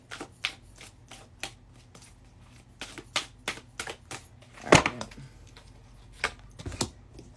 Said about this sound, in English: And then I know I shuffled this.